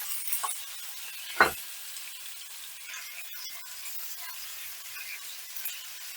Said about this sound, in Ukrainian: Зараз додаю м'ясо і буду смажити на великому вогні.